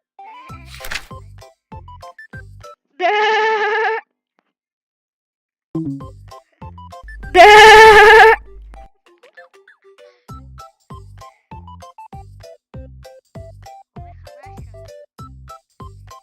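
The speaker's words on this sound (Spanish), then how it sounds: "Oveja." Two bleating sheep calls, each about a second long and clearly separated, in a children's animal-sounds game, set over a light, repeating plinking tune.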